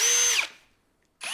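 A power drill whines loudly at full speed, winds down and cuts off, then spins up again after a short pause, while work is being done on a Honda Civic; no one speaks.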